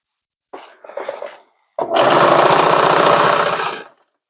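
Electric sewing machine running in one sustained burst as it stitches elastic into a pajama waistband, preceded by a brief softer mechanical whir and clatter; loud and close.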